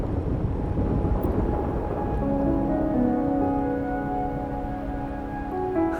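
Steady rain with a low rumble of thunder at the start, the rumble fading as sustained tones rise over the continuous hiss of rainfall.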